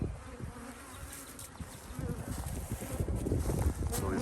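Bees hum and buzz steadily around two apiary hives outdoors, a close continuous drone that swells louder toward the end, with light wind noise.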